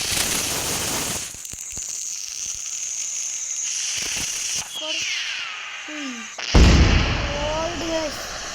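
Festival firecracker rockets are lit at night: crackling bursts and pops, a whistling rocket streak rising, then a louder close bang with a crackling shower, with people talking nearby.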